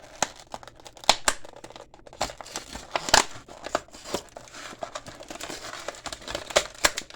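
Close crinkling and crackling as blister packaging is cut open around a Greenlight 1:64 scale die-cast NYC EMS Ford F-350 ambulance, irregular plastic snaps and scissor snips continuing steadily.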